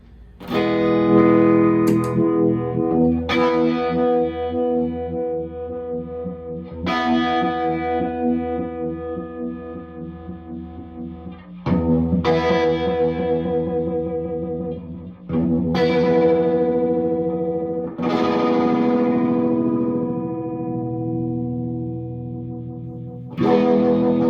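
Electric guitar chords ring out through a Sir Henry Vibe pedal, its pulsing warble changing speed across several strummed passages, each chord left to sustain and decay.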